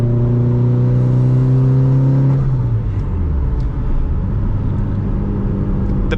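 Mitsubishi Evo 8 with a short shifter accelerating hard, its engine note climbing steadily before a brief drop at the fourth-to-fifth gear change, then pulling again at lower revs, loud and close from inside the cabin.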